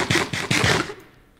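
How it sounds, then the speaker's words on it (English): Bomb explosion in Minecraft with the Create Above and Beyond modpack: a loud close burst of rapid crackling blasts that tumble over each other for under a second, then fade into a faint tail. "Did you just throw a bomb at me?"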